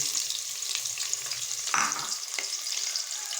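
Onions frying with whole spices in a pan for vegetable pulao, a steady close hiss with a few soft stirring scrapes and clicks, no talking.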